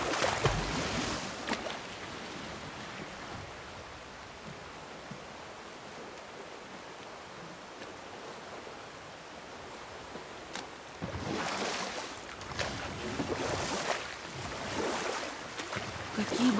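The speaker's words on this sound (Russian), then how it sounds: "Я еще не видел такого огромного водопада." A huge waterfall roars as a steady, broad wash of rushing water, loud and continuous throughout, swelling slightly in the later part.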